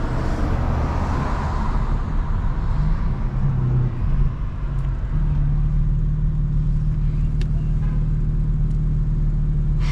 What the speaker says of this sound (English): Car is finally warming up a little bit